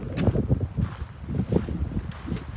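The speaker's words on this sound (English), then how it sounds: "It's always so windy up here." Steady, buffeting wind roaring across an open mountain trail on the Tahoe Rim Trail, with gusty rumble throughout and no talking.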